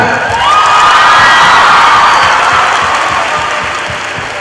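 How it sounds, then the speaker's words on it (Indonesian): Loud applause with cheering and whoops from women in a large university lecture audience, swelling quickly, then slowly fading over a few seconds. "Ya, mana tepuk tangannya, kaum wanita?"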